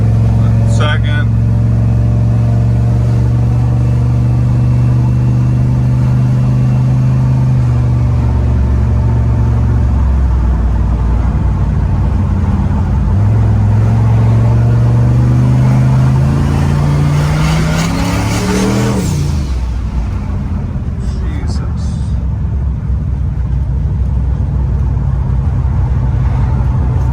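A small car pulls away from a stop and accelerates hard, engine revving up through the gears with pitch climbing and dropping at each shift, loud and close throughout, with someone talking over it.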